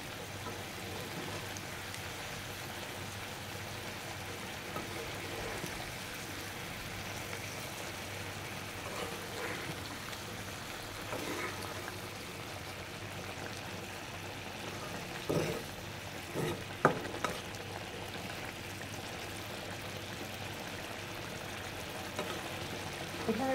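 Pangas fish with spices frying in a little broth gives a soft, continuous bubbling sizzle for a long stretch, with a few brief clinks and pops toward the end.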